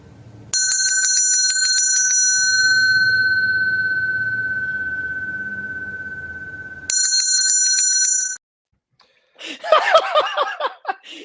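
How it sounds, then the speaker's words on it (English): A small bell struck twice on a sports talk show: a bright ring with a long, fading sustain, then a second, shorter ring cut off abruptly, followed by laughter. "That is the belly bell, and will be rung as many times as it needs to be throughout a show"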